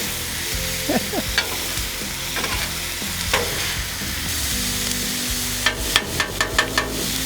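Onions fry in a pan, sizzling steadily while a utensil stirs and scrapes through them, ending in a quick run of sharp taps against the pan, close and fairly loud.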